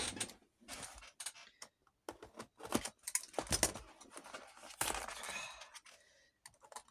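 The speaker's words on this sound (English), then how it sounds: "I'll grab some scissors" Scissors snip and crunch through plastic packaging on boxed lights, a quiet, close run of irregular clicks and cuts with short pauses between them.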